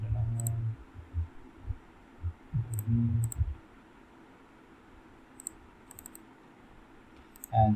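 Keys tapped on a computer keyboard while an activation code is entered to lock an Android device into kiosk mode; a few soft, close clicks come in short bursts in the first few seconds, then near silence with faint ticks.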